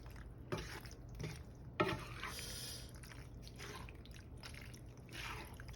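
Pasta being stirred into sauce for baked ziti, with soft wet squishing and dripping sounds from the mixing and a couple of sharper scrapes, close and quiet over a low steady hum.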